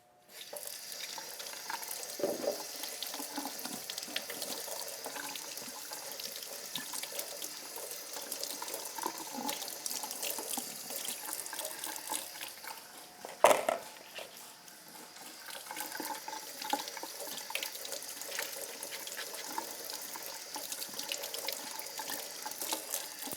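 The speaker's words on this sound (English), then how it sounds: "So I'm going to give these a quick rinse." Tap water runs steadily into a kitchen sink while Brussels sprouts are rinsed, a continuous close splashing hiss with one brief louder clatter partway through.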